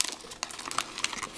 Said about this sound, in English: fold everything over and then tape it shut